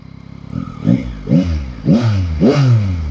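A 2021 Yamaha Tracer 9 GT motorcycle idles, then its three-cylinder engine blips through four quick, loud throttle revs in a steady rhythm, each rising and falling close by.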